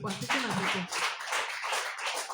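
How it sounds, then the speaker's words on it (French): A church congregation claps for the Lord in a short, dense burst of hand claps mixed with voices, fairly close and lively. "Applaudissez pour le Seigneur."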